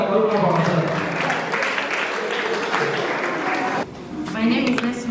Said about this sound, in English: Can we clap ourselves?